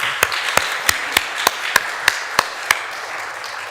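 Slow, evenly spaced claps ring out during a church service, about ten sharp beats at a steady rhythm, clear and fairly close, then stopping near the end with quiet room tone behind.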